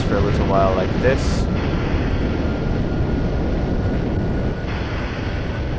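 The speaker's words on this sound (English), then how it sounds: "I'm just gonna go ahead and turn on the engines for a little while like this." Shuttle engines fire in Kerbal Space Program, a loud, continuous broadband roar with a deep rumble, holding steady and easing slightly near the end, with a few brief game tones early on.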